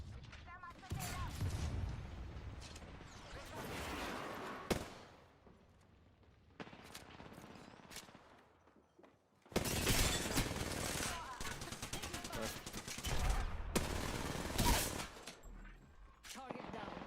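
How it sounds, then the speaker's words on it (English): Gunfire and a thermite grenade in a battle royale video game: loud bursts of rapid shots in two main stretches, with quieter action sounds between them and occasional talk over the top. "Throwing thermite grenade."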